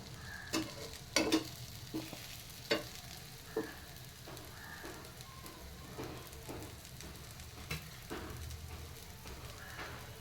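A moong dal dosa roasts on a pan, a quiet steady sizzle broken by several sharp scrapes and taps of a spatula, faint and close with no talking.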